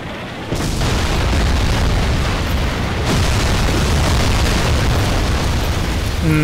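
Tank cannon fire and explosions in the video game Renegade X boom loudly and continuously, one dense rumbling wall of blasts that swells after a quieter opening and barely lets up.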